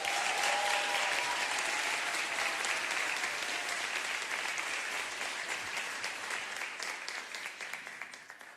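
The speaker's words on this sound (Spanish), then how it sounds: "Quiero pedir otro aplauso muy fuerte para el equipo de bailarinas" Sustained applause from a concert audience for a dance troupe at a Wüñol Txipantü event in Temuco, dense steady clapping that holds for several seconds and slowly tapers near the end.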